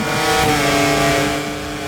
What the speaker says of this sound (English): we've got a Ducati coming up the inside of us here